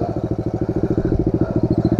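A Pro Tork TR100F mini motorcycle idles and putters on a dirt trail, its small single-cylinder engine thumping in a fast, steady pulse, close and loud throughout.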